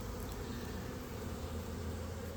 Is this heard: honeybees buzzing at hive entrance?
yes